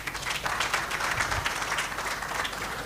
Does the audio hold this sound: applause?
yes